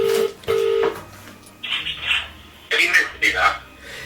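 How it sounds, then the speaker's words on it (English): A phone on speakerphone dialing out in a kitchen, with two clear beeps followed by a few softer tones, ringing and a voice answering through the small speaker, close and fairly loud. "Speakerphone. Okay, I'm going to give her a call."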